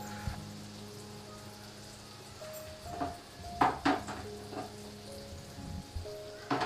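Surmai kingfish fries in oil in a small home kitchen, giving a steady close sizzle with a few sharper crackles and spits, and no one speaking.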